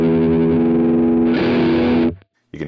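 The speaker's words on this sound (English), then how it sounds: "You can hear how when it's trying to process it fast, it's sounding a little bit glitchy" Boss GX10 guitar processor putting out a dense, distorted guitar tone with chorus-like effects that shifts abruptly partway through, then cuts to near silence before stuttering back in, a glitchy, choppy processed sound with no talking.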